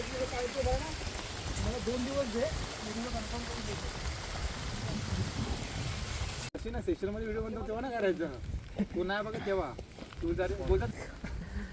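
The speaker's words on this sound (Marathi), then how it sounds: "अतिशय पाऊस आहे" Heavy monsoon rain pours steadily at Torna fort, a dense hiss that sounds under someone talking throughout.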